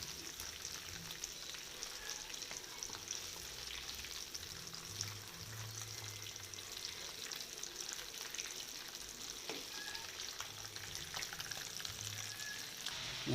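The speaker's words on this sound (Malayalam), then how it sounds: "ബാക്കിയുള്ള കഷ്ണങ്ങൾ നമ്മളപ്പുറത്ത് ഫ്രൈ ചെയ്തുകൊണ്ടിരിക്കുകയാണ്" Chicken pieces fry in a pan with a steady, dense sizzle and crackle that runs unbroken throughout at a moderate level, with a few faint clinks and soft low thumps beneath.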